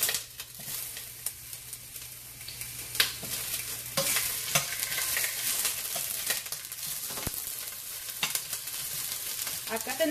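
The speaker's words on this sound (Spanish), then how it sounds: "Esto es para freír nuestra cebolla." A piece of onion frying in oil for red chilaquiles, giving a steady close sizzle with scattered scraping and clattering stirring sounds throughout, with no talking.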